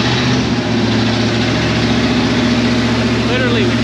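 An old Ford F26 truck engine, running again after a fresh battery and fuel in the carburetor, idles loudly and steadily up close with a deep, even rumble.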